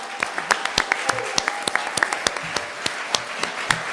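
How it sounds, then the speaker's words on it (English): At a New York City retirees' mayoral debate in April 2025, an audience gives the candidates a round of applause: scattered, distinct hand claps, fairly close and moderately loud, with a faint murmur beneath. "please give a round of applause to these excellent candidates"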